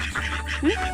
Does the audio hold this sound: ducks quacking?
yes